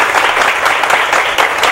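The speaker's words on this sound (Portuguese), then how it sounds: "Essas palmas é para a administração, poderia ser mais forte, né?" A lecture audience at a university breaks into loud, thick applause, a continuous roar of many hands clapping with no pauses.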